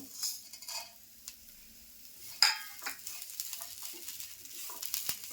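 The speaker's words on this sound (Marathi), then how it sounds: "आठ दहा काळी मिरे घेतलेत एक चमचा धणे घेतलेत चार लवंग घेतलीत आणि एक मी वेलची घेतली मसाला वेलची ते सुद्धा टाकून असं भाजून घेणार आहे" Black pepper, coriander seeds, cloves and cardamom dry-roasting in a pan: quiet, sparse rattles and scrapes as the whole spices are stirred, with a sharper clink partway through and no voices.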